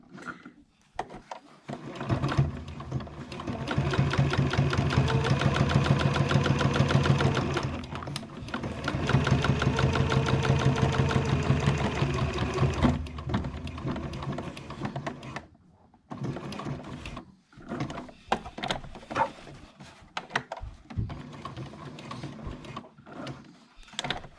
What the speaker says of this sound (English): We're going to stitch all the way down, across, back up, across and back down.